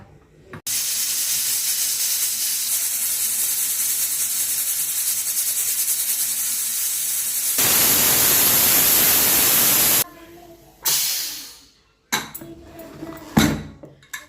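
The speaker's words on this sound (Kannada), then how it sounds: "ಇವಾಗ ಒಂದು ಮುಚ್ಚಳನ ಮುಚ್ಚಿಬಿಟ್ಟು ಒಂದು ವಿಸಿಲ್ ಬರೋವರೆಗೂ ಬೇಯಿಸಿದ್ರೆ ಆಯಿತು" A pressure cooker cooking tomato bath lets out a loud, steady steam hiss for about nine seconds, rising louder near the end, then cutting off into a few brief clattering bursts.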